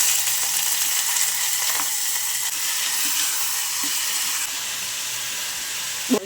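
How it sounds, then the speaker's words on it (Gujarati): Vegetables with a pinch of asafoetida sizzle and hiss steadily in hot oil with mustard seeds and cumin while vegetable khichdi is cooked, a continuous close frying crackle with a brief stir or clatter at the end. "ચપટી હિંગ નાખીશું આપણે. પ્રોપર બધા શાકભાજી પહેલાં આપણે આની અંદર નાખી દઈશું."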